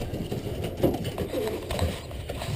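Pigeons coo softly and intermittently among a loft of large, heavy-bodied birds, reds and blue and black checks, low murmuring calls close by over a steady background hum.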